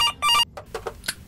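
Telephone in the horror game September 7th, a close electronic ring in two short bursts followed by fainter chirping tones, heard alone.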